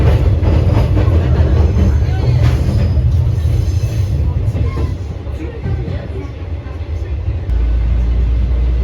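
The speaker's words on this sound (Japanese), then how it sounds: "九頭竜湖行き普通列車が出発しました。" A JR West Etsumi-Hoku Line local train bound for Kuzuryuko pulls away from a small station platform, with a steady, loud low rumble of the running railcar continuing throughout and a heavier drone near the end.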